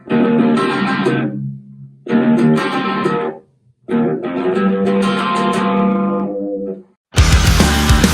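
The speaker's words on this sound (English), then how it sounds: "I love the sound that you get when playing these extensions in distortion" Heavily distorted electric guitar chords ring out loud in three sustained strummed phrases separated by brief pauses, ending with a burst of harsh noise.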